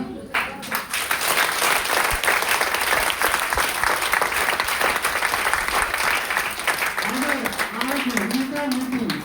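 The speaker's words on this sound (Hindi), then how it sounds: "तो अगर उस सर को हम बुलाएंगे तो आप लोग ताली कैसे मिलेगा?" A crowd claps loudly and continuously to welcome a speaker at a product seminar, dense steady applause with a voice briefly audible near the end.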